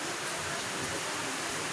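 Heavy rain pours down as a dense, steady hiss, faint and continuous with no other sounds over it.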